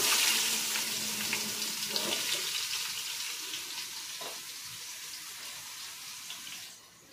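Chopped onion hits hot oil in a pan for masala rice and bursts into a loud, hissing sizzle that gradually settles to a softer, steady crackle before fading near the end.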